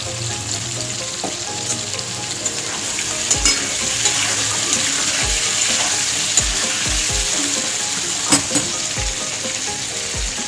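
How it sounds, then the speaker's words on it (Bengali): Jackfruit pieces with salt and turmeric sizzling in hot oil in a pan, a continuous close hiss broken by a few sharp knocks and clatters of the stirring utensil. "একটু লাল লাল করে ভেজে নেব"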